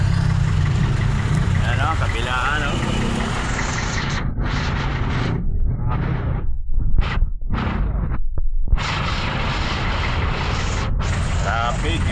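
Stalled heavy traffic with car engines idling nearby, a continuous low throbbing drone under someone speaking briefly, with some scattered noise bursts.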